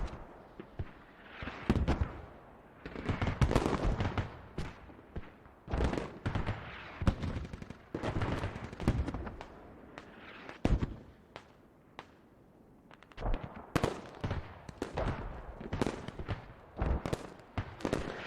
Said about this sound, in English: those are the machine guns they were talking about being set up